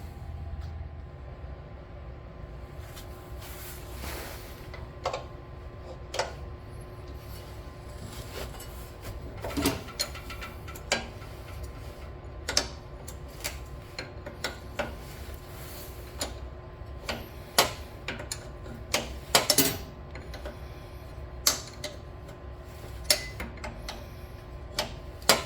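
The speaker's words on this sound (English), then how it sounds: "pick up the slack on this chain by turning this bolt out" Ratcheting clicks from a wrench turning the chain tensioner bolt on a John Deere E2102 riding mower, a steady run of small ticks with sharper knocks scattered throughout, close and alone with no talk.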